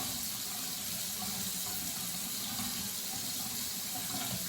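Water streams steadily from a bathroom tap while a razor is rinsed during shaving, a continuous close hiss of running water with no voices.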